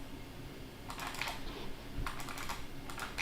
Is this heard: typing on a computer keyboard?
yes